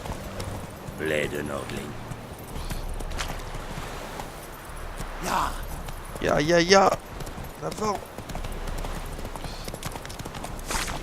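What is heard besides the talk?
horse galloping in The Witcher 3 video game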